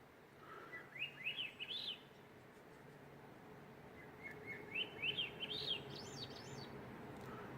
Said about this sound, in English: these birds, I've been hearing them I think since Northern California